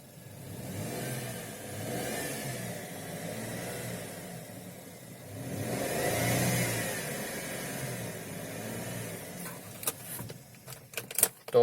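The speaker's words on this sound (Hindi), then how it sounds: "तो अगर मैं अभी थोड़ा एक्सेलरेट करूं तो उसकी साउंड देखते हैं अब।" A Maruti Wagon R engine revs up and eases off in broad swells, with a moderate close hum rising and falling twice, followed by a few sharp clicks and knocks at the end.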